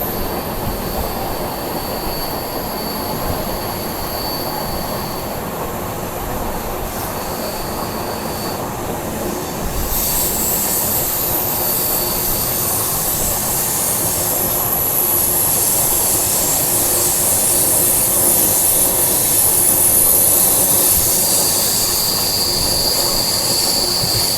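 Poorvottar Sampark Kranti express on the Silchar–Delhi route rounding a curve: a steady loud rumble of wheels and carriages with high metallic wheel squeal that swells from about halfway on, with no voices.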